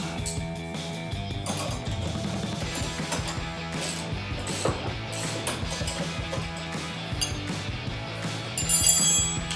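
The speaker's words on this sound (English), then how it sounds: "Switch to my 16mm socket and my 17mm wrench with 10mm bolts." Hand tools working 10mm bolts with a 16mm socket and 17mm wrench while bolting step bars onto a Jeep Gladiator JT, giving a steady run of small metallic clicks, clinks and ratcheting close by, with no talking.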